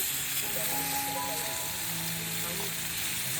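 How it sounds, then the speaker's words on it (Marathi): Konkan kaul chicken frying in a pan outdoors in the countryside, a steady dense sizzle that holds evenly throughout, with faint voices in the background. "अर्धा इथं फ्राय करून झालं आहे."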